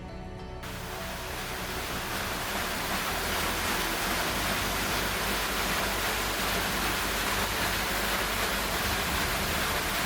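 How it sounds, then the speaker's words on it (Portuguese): Water rushes steadily through underground channels feeding the paddles of a restored watermill on Flores in the Azores, a loud, continuous broadband roar that holds unbroken throughout, with no voices. "A força da água passa pelos canais subterrâneos e faz mover as pás."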